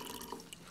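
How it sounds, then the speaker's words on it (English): Very hot liquid for mineral precipitation is poured carefully into jars, giving faint, soft dripping and trickling water sounds over a quiet background with no talk. "we're going to pour it carefully into these jars."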